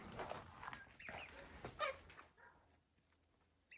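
Young pullets in a backyard coop give scattered soft clucks and chirps close by, with a few sharper squawks midway, all fairly faint against a quiet background that fades toward the end.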